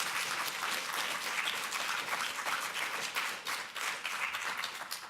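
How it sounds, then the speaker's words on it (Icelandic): A conference audience at a welfare department knowledge day gives hearty applause for a speaker, a thick, continuous patter of many hands clapping at close range with no talking over it. "Þú ekki að klappa duglega fyrir Melkorku."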